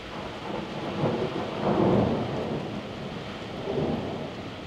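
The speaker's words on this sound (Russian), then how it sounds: "Молнии сверкают, ветер жуткий, ливень." Heavy rain hisses steadily in a mountain thunderstorm while low thunder rolls swell and fade twice in the background.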